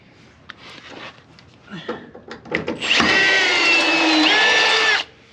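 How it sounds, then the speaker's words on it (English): Some handling clicks and taps, then a power drill whirs steadily for about two seconds, biting into a metal bracket before stopping abruptly. "Now we're going to drill that."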